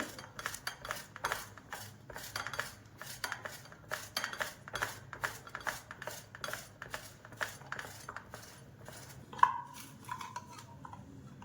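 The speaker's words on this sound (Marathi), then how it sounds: "बटाटा किसून घेणार आहे मी बारीक असा बटाटा किसायचा आहे" Boiled potato grated finely by hand while preparing crispy spinach-potato bhaji: steady, rhythmic scraping strokes repeat close by for several seconds, with a faint metallic clink near the end and no talking.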